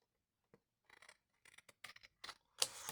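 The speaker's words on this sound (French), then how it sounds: "j'aime bien prendre ces ciseaux-là parce que, du coup, ça coupe bien droit" Scissors snip through paper in a series of quick, close cuts, with a louder crisp snip at the end.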